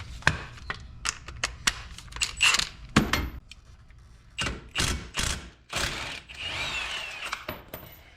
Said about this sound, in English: I'm gonna pull off this brake caliper, it's a 21.